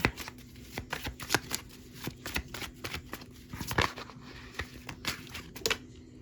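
Cards being shuffled close by, in repeated quick riffling bursts with short pauses, rather quiet and with no one talking.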